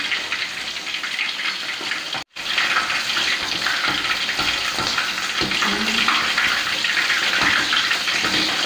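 Mackerel fish nuggets sizzle steadily in a frying pan, a loud, continuous crackling hiss close up with one brief dropout.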